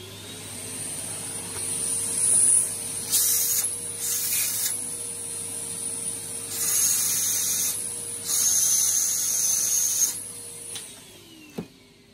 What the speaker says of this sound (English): I'm going to vacuum off this little felt pad